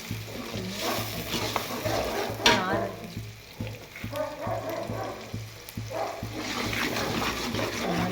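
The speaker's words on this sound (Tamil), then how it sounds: "வெங்காயம் நல்லா வதங்குது இப்போ நம்ம இந்த இஞ்சி பூண்டு பேஸ்ட்" Onion sautéing with ginger garlic paste for chicken noodles, a continuous close sizzle and bubbling with stirring scrapes and a few clinks, a low steady hum underneath and no clear talk.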